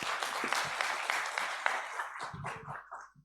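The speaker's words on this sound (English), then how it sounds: "Please give a big round of applause once again." Symposium audience applauding in a hall, a dense burst of clapping that holds steady and then tapers off into scattered claps.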